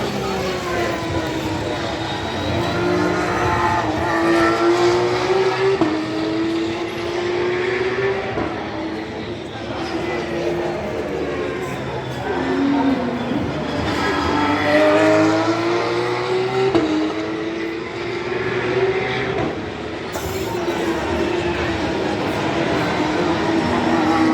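Race cars lap a circuit during a morning practice session, engines rising and falling in repeated passing sweeps, loud and continuous from trackside.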